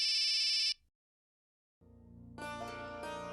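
A telephone ringing inside a home, a short bright electronic ring burst that cuts off into silence, followed by a low hum and rising background sound.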